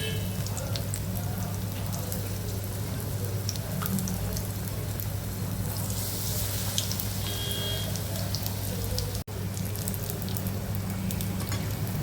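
Bhajji fritters deep-frying in hot oil at home, a steady, dense crackling sizzle held at even loudness throughout, with a faint hum underneath.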